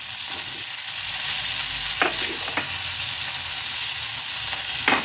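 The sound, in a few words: small fish and tofu frying in a pan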